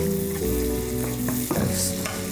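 Chopped shallots frying in the oil left from searing steak: a steady, close sizzle and crackle with a few sharper spatters, loud and continuous, no talking.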